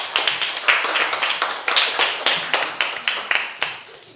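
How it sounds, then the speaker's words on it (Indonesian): A small group claps steadily for a few seconds, a quick run of sharp hand claps at moderate volume with no voices over it. "tepuk tangan"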